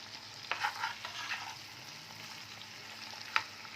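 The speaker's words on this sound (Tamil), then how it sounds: "மீனை திருப்பி போட்டுருவோம்." Fish, a rock fish, fries quietly in a pan after being flipped, with a faint continuous sizzle and a few soft scraping spatula taps, no talk.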